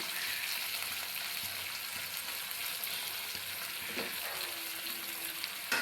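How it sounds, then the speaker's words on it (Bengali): Onions frying lightly in a pan, a quiet continuous sizzle held steady throughout with one soft utensil knock and a faint whistle-like tone near the end. "পেঁয়াজগুলো একটু হালকা ভেজে তারপর এর মধ্যে চিকেনগুলো দিয়ে দিব।"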